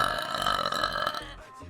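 A man lets out a long, loud, tonal burp close to the microphone, sustained for over a second before trailing off, with no one talking over it.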